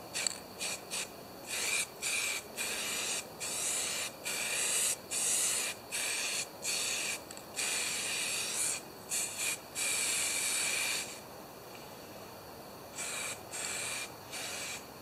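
Close, loud hissing bursts of spray paint on a Homelite XP1020 chainsaw, some short and some held for a second or two, repeating with brief pauses between.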